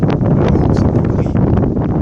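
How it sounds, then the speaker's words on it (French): Strong coastal wind buffets the microphone with a steady, loud rumbling roar that stays constant throughout. "il y a trop de vent"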